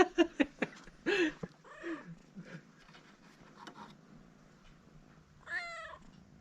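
A cat in a village home meows and yowls in several drawn-out calls, with a few short thumps at the start and a rising wail near the end, close and fairly clear with no speech over it.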